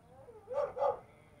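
Two short barks from a big dog, fairly faint and distant, close together in a quiet outdoor afternoon.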